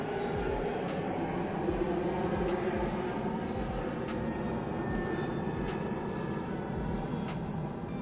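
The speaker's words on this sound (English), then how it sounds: "I'm gonna let this plane go over." A fixed-wing airplane passes overhead, a steady loud engine roar and rumble that holds constant and fills the entire span without fading.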